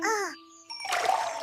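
Cartoon water splashing as vegetables are washed: a short sung or chimed tone, a pause with ringing notes, then a bright burst of splashing water.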